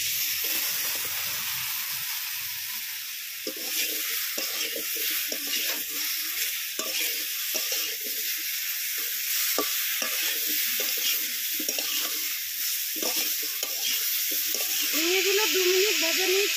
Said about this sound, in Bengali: ঝিঙেগুলো 2 মিনিট ভেজে নিয়েছি